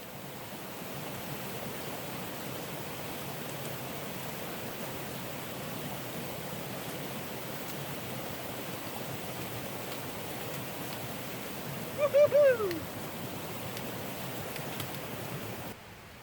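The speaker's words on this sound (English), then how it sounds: "The sound of water permeated the site." Steady rushing of a mountain creek flowing beside a backpacking camp in the Great Smoky Mountains, a continuous close wash of water with a brief louder splash near the end.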